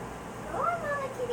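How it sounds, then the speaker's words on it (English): A cat gives a single drawn-out meow, rising and then falling, close and clear over a quiet background. "Mama Kitty's in the way, won't let her out"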